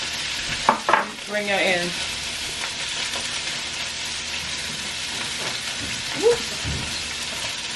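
Cheese-filled burger fingers sizzle steadily in a hot pan while being basted with sauce, a continuous frying crackle running under brief exclamations and short talk from a nearby voice.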